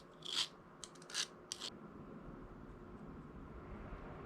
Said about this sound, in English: Just gonna rough it up a little bit more across the whole axle.